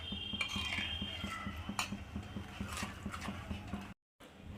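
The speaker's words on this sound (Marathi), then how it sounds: "हे चांगलं आता मिक्स करून घेऊया सर्व." Spinach gravy for palak paneer being mixed in a pan: a spoon clinks and scrapes against the metal in a quick, steady rhythm, close by, with a soft bubbling background.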